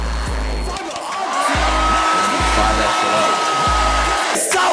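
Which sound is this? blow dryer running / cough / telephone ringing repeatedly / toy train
blow dryer running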